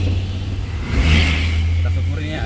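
Vehicles pull away on a national road in Sulawesi reopened after a landslide, a close, steady engine rumble that swells briefly as one accelerates past, with faint voices underneath.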